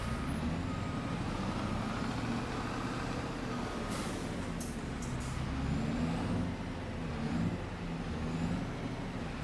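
A truck in the Farming Simulator 25 video game reverses with a steady, heavy engine drone, brief hissing air-brake bursts partway through, and no voices.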